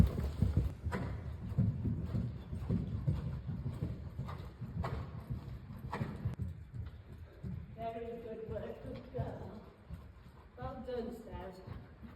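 Horse cantering in winter training, hooves clip-clopping in a steady rhythm across the ground, moderately close, with a rider's voice speaking over part of it.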